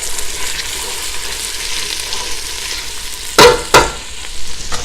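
Chorizo fries in a pan for Portuguese kale soup, with a steady sizzle and two sharp clattering bursts from the pan being tossed near the end.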